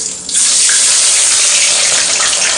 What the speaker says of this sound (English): Can hear that sound? That means the oil is very hot.